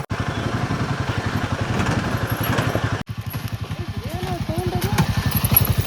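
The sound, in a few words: motorcycle engine running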